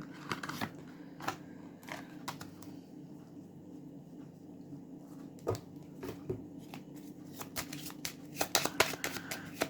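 Deck of cards shuffled for a card reading, soft repeated riffling and flicking sounds close by, in irregular bursts over a quiet background hum, growing busier toward the end.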